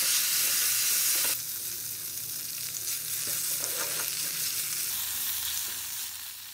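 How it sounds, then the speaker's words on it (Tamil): Half a cup of fresh curry leaves hits hot oil in a kadai with a loud, bright sizzle that quickly settles into steady crackling frying, broken by occasional scrapes of stirring. "அது பொரிஞ்சதும் அரை கப் டைட்லி பேக் ஃப்ரெஷ் கருவேப்பில ஆட் பண்ணி ஒரு நிமிஷம்"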